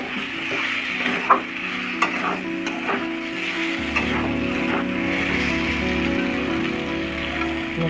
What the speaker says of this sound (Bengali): ভালো করে দুটো একসাথে ভালো করে মেশাবো।